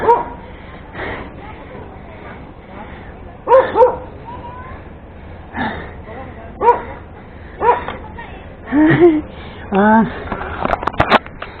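A roadside dog barks and yips in short scattered bursts at another dog, fairly close, with a few whimpering notes and people talking quietly in between.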